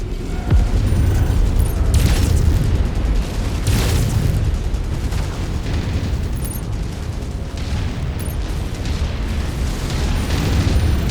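A Locust mech blown apart in the game MechWarrior 5, a loud rumbling explosion with heavy low boom and repeated bursts, continuing as a dense roar for several seconds.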